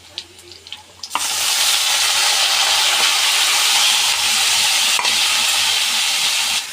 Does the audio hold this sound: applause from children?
no